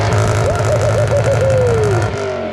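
A Lexus LS430 with a refitted exhaust accelerates hard, a loud, steady engine roar with a rising whine that climbs through gears and fades slightly at the end, close and continuous with no talk.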